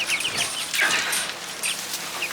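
Meat bird chickens huddled together in a corner give soft, close clucks and short chirping calls in a brief cluster, with no talking.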